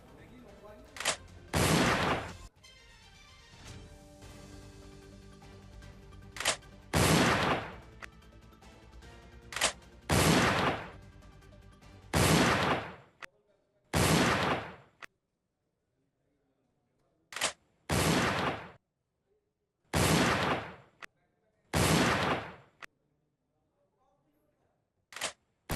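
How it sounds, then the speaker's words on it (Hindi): Gunfire from a criminal shooting at police: a series of sharp, loud bangs in uneven bursts, some clustered close together and others spaced with silent gaps, with faint voices in between. "ये देखिए आप, पुलिस पर फायरिंग की गई और इसका वीडियो भी रिकॉर्ड किया गया"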